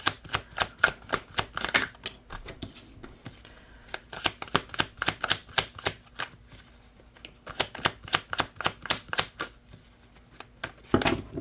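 Playing cards are riffled and shuffled again and again in quick, crisp bursts, with short pauses between rounds and a faint hum beneath, up close and with no one talking.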